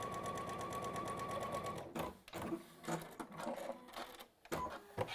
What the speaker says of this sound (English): come with me to the machine. If we sew along that top line